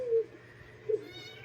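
An orphaned kitten gives a short meow up close, followed by a second brief cry, in a quiet room.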